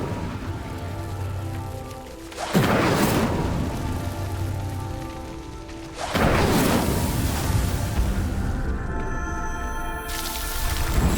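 Incendio fire spell cast in Hogwarts Legacy, heard as two loud roaring whooshes of flame, each bursting up and crackling on for several seconds over a low steady background.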